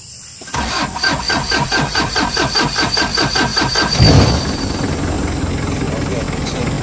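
A Kia Pregio 3.0 with a weak battery cranks in a rapid, even chugging rhythm for several seconds, then catches with a burst and settles into a steady, close idle.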